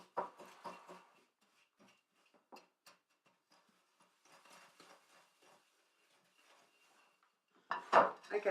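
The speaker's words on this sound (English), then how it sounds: "when I start using my hand whisk, it doesn't all fly out of the bowl" Hand whisk beating Christmas pudding mixture in a bowl, with a few quick clattering taps at the start, scattered faint clinks through the middle, then a louder burst of scraping whisking at the end.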